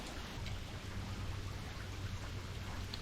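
Steady rain pours down at a roadside creek beside a swamp, a dense, even hiss of drops with a low rumble underneath and no pauses.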